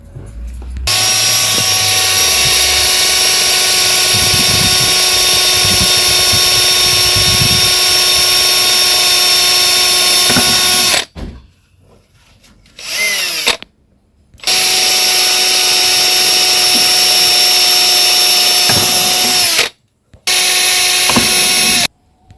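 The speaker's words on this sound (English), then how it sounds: "What I'm doing is to bore some holes at the top of the container to have the worms get some ventilation." A power drill bores ventilation holes in the top of a plastic worm container, a loud, close, high whining drone in long bursts with short stops and a few brief restarts.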